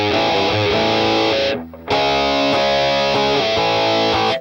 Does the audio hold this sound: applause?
no